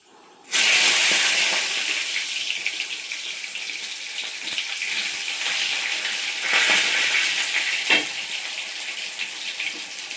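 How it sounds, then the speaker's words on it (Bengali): Five-spice (panch phoron), cardamom and cloves hit hot oil with a sudden loud sizzle that settles into a steady, close hiss, swelling slightly at moments, with no talking. "ফার্স্টে কিন্তু আমি তেলে দিয়ে দিচ্ছি হচ্ছে কি পাঁচফোড়ন আর হচ্ছে এলাচ লং"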